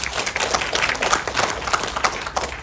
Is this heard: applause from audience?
yes